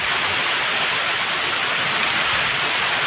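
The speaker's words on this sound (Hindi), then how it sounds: "कितनी शानदार बरसात हो रही है" Heavy rain pours down in a dense, steady hiss, a continuous loud wash of water with no break and no voices over it.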